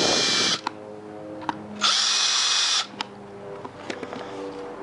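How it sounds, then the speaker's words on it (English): A power drill bores screw holes for hinges through a Multi-Jig, two loud high-pitched bursts of drilling separated by quieter clicks and handling noise. "now you can drill for your screw holes"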